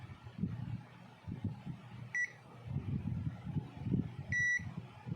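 A Zotek ZT102 multimeter in beep mode gives two short, sharp electronic beeps, several seconds apart, over quiet background noise and low muffled sounds.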